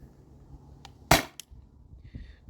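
A single sharp snap of a T4E Gen 2 air gun shot with a leaking pierce cap and losing power, brief and fairly quiet, with a faint click after it.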